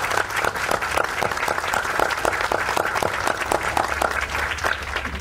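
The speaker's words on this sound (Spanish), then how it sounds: "démosle un fuerte aplauso" Audience at a decentralized municipal council session applauding, steady clapping from many hands that is loud and close, lasting throughout without a break, with no speech over it.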